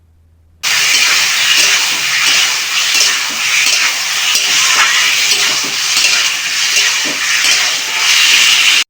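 Boiled potatoes and taro being added to a spice paste in a pan for a village-style fish and taro curry, a loud steady sizzle with stirring and scraping that starts abruptly and runs throughout.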